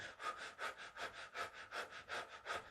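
Rhythmic forceful breathing during an energizing breath exercise: about eight quick, even in-and-out breath bursts in a steady cycle, close to the microphone and fairly faint, with no talking.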